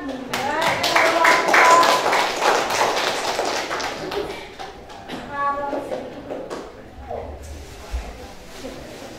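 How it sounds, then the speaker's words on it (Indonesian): An audience claps at a school or community performance event in Indonesia: dense rapid clapping for several seconds that fades to scattered claps, with voices talking over the tail. "Tepuk tangan."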